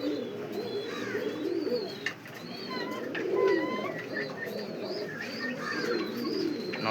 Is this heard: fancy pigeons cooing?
yes